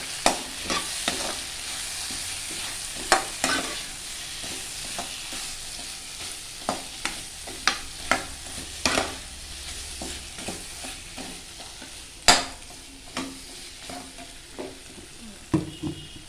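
Tomato, onion and mixed vegetables sautéing in a pan for Tamil kara kuzhambu, with a steady low sizzle broken by repeated sharp clicks and scrapes of a spoon stirring against the pan, close and alone.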